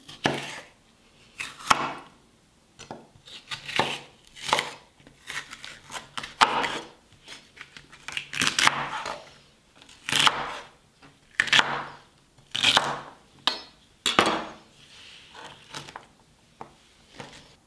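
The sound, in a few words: chopping celery stalks with a knife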